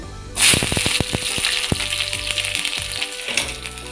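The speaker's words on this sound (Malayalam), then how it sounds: "ചെറിയ ഉള്ളി മൂന്ന് കഷ്ണം അരിഞ്ഞത് ഇട്ട് കൊടുക്കാം" Three chopped shallots hit hot oil in a pan and burst into a loud, steady sizzle with rapid crackling pops, close and alone.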